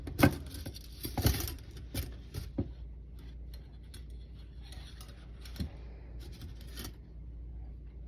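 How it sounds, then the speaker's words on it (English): Light metallic clicks and jangles of small scissors being handled, a few sharper snips and clinks over a quiet background. "last but not least, is the small towel clip scissors"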